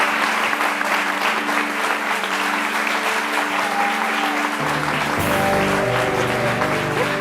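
Sustained applause fills a hall at an RTI honors ceremony in Abidjan as honorees are called forward; the clapping stays loud and dense, with musical tones underneath.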